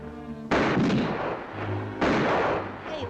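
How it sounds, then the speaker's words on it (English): Cartoon gunshots from Elmer Fudd firing at Bugs Bunny in the 1953 Looney Tunes short Upswept Hare: two sharp, booming blasts about a second and a half apart, each trailing off into a rumbling echo. "He just shoots at Bugs. He keeps on shooting, shooting."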